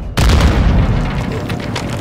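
A grenade explodes in Call of Duty Modern Warfare 2 with an abrupt, heavy boom that cuts in after a brief quiet. A dense, sustained roar of blast and debris follows, loud and close.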